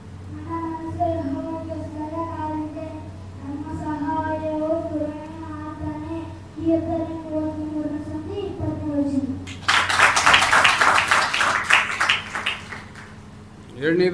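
An audience bursts into loud, dense applause lasting several seconds, after a stretch where someone speaks.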